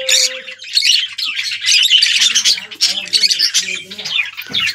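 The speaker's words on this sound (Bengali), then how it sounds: "পাখিগুলো এরকম বসে আছে দেখো, চেয়ারটার উপরে লাইন দিয়ে সব বসে আছে।" Pet birds perched in a row on a chair squawk and chirp constantly, a dense, busy chorus of sharp close calls with no talking.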